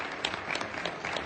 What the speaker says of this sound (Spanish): ¿Cuántos dan un aplauso a la palabra del Señor?